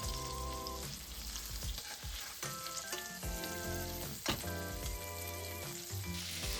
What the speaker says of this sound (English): My patties are a little bit thick, so I heat them from both sides gradually.